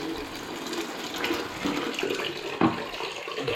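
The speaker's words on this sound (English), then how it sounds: "I'll just knock the pressure off this heating. Just into the bucket." Water drains from a home heating system into a small bucket during a wet room fit-out: a steady, continuous splashing trickle with a brief louder splash near the end.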